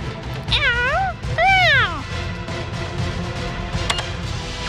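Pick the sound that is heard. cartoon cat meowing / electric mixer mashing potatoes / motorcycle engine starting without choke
cartoon cat meowing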